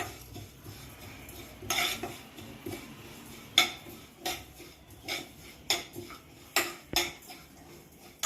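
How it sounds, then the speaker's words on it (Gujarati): Spice masala roasting in a pan for pickle, a spoon scraping and clinking against the metal at irregular intervals, light close taps over a faint background. "ચાલો આપણે આ મસાલો શેકી લઈએ"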